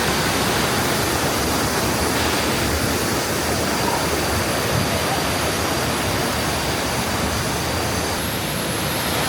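A steady, roaring rush of falling water fills the scene without a break, loud and broad, from the nearby Mae Sa Waterfall in Chiang Mai, Thailand.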